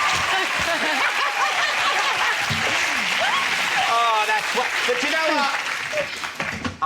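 A TV chat show studio audience applauds and cheers loudly throughout, a thick sustained roar of clapping with whoops and laughter mixed in, tailing off slightly at the end.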